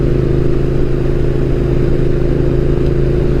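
A Triumph Thruxton R motorcycle on the road, its engine a constant mid-pitched drone with wind noise close by, with no voices.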